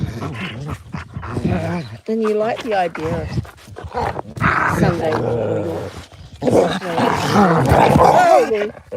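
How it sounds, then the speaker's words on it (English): Farm dogs growl playfully in close, throaty bursts that mix with someone talking over them. "the dog's getting a bit too close with their growlies and knocking my iPad"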